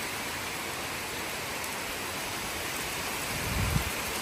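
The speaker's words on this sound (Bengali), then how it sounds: "কি জোর বৃষ্টি নামলো, ইরে বাবা রে, দেখো অবস্থা, ঝমঝমিয়ে বৃষ্টি হচ্ছে," Heavy rain pouring down in a steady, dense hiss that stays even throughout, with a low rumble swelling briefly near the end.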